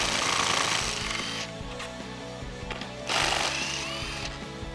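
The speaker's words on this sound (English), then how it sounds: "I'm gonna take a 10mm socket and remove them." A 10mm socket removes the bolts holding the intake tube on a Jeep Wrangler JL with a 3.6L V6, giving a steady, buzzing mechanical rattle close by with a brief louder surge partway through and no talking.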